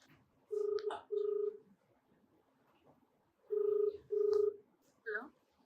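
Telephone keypad tones beep as a call is dialed, five clear tones in two bursts with a pause between, close and distinct over a quiet background.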